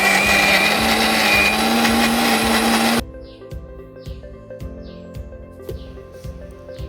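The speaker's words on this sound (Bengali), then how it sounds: "এখানে এখন মিক্সিতে ডালটা পেস্ট করে নেব" A mixer grinder whirs loudly as it blends soaked lentils into a paste. The motor cuts off abruptly, leaving quiet rhythmic tapping and faint chirps in a room.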